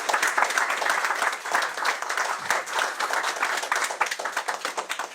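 A live audience at a radio theater show applauds a guest, a full round of clapping that stays lively before thinning slightly toward the end.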